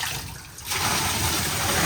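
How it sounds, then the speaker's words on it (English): Water dumped from a filled garbage can into an AC unit, a broad rushing splash that surges in after a quiet start and pours steadily, loud and close. "So we fill up this garbage can with water. Let's go for a little dump."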